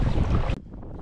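Strong wind buffets the microphone on an open kayak on Australian water, a dense roaring gust that cuts off abruptly midway and gives way to a softer, steady rush.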